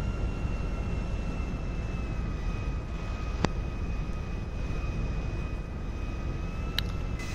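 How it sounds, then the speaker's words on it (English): Airplane engine idling and rolling toward the runway in the GTA video game, a steady broad roar with a high whine running throughout, plus a brief sharp click midway. "Alright, let's put this plane over to the runway."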